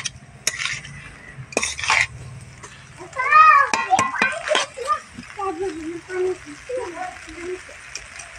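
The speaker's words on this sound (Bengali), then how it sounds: "খুব ভালো করে আবারও নাড়াচাড়া দিয়ে ভেজে নিচ্ছি।" Egg chowmein being stir-fried in a home kitchen pan, with scraping and clattering of a utensil against metal in bursts, under a voice talking.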